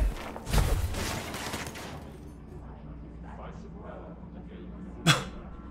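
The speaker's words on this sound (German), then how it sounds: "Wer hat gerade auf mich geschossen?" Gunshots aimed at the player in the video game Control: a loud burst of fire at the start, quieter ambience, then one sharp loud shot near the end.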